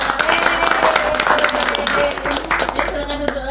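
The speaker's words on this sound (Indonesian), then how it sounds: "Tepuk tangan." Audience applause in a classroom after a group's presentation in a broadcasting and film arts course: continuous dense clapping from a room full of people, steady and fairly loud throughout, with voices mixed in.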